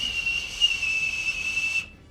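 A voice imitates a loud, piercing whistle, holding one long shrill tone with slight wavers before it cuts off abruptly.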